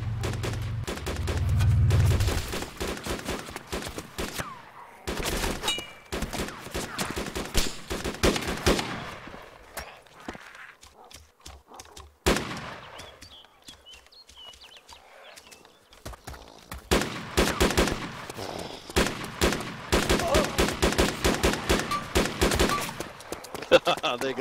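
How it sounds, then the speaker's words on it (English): Gunfire cracks out in the DayZ video game in scattered sharp bursts across a busy mix, with heavy rumbling and clattering at the start. The shots are loud at times and fainter elsewhere, with a quieter stretch in the middle. "They're shooting though."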